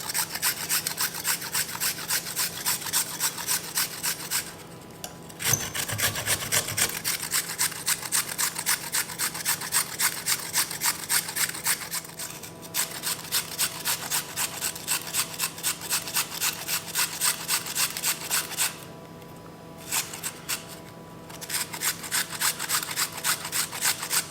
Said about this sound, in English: to grate the fruit or veg, whatever you're putting in it